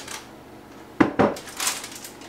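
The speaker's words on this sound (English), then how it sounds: "grab my little pan here" An 8 by 8 inch baking pan lined with parchment, picked up from a kitchen counter with two quick metallic clanks close by, then a softer scrape, no talking.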